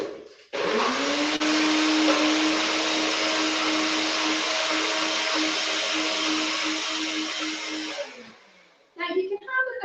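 Kitchen blender whizzing an olive oil mixture with the lid on, one loud steady whirring run of about eight seconds that starts abruptly and stops, followed by a brief clatter.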